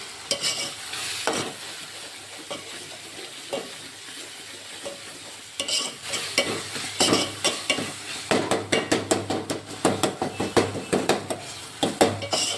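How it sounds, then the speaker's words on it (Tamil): Cooked tomatoes mashed by hand with a wooden churner (mathu) in a pot, starting with soft scattered knocks and scraping, then turning into a fast, loud run of rhythmic wooden thuds and clacks close by. "இப்போ வந்து நம்ம மத்து வச்சு நல்லா கடைஞ்சிக்கணும்"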